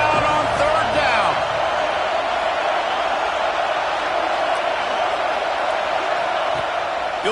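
A packed college football stadium crowd roars continuously as the Gators face third down, a loud, dense wall of cheering and noise with no break.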